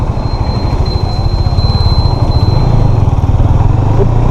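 A 2017 KTM Duke 250 motorcycle ridden on the road, its 250cc engine droning loudly and steadily at mid revs with a constant rumbling pulse and rushing wind, no talk.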